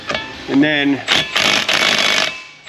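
Power tool spinning off the 13 or 14 millimeter driveshaft nuts under a 2016 Jeep 2.4 at the rear differential, several loud whirring bursts in close succession after brief speech.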